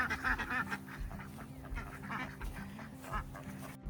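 Several ducks quack repeatedly near a homestead pond, a steady run of overlapping, moderately close calls with no talking.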